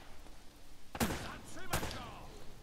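Two loud gunshots ring out in the video game Uncharted, one at about a second and another shortly after, each with a sharp broadband crack over a low background rumble.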